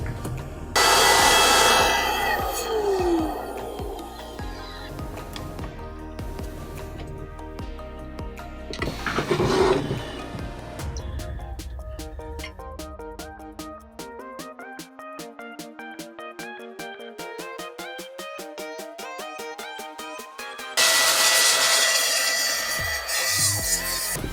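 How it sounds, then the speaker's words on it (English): Bursts of compressed air blasting dust off the cooler of an R9 290 graphics card, loud hissing jets at the start, around ten seconds and near the end, with a fan's whirring, rising whine spinning up in between. "I'm going to blow it off first because I want to get these chunks off before I start mixing it in with the rubbing alcohol"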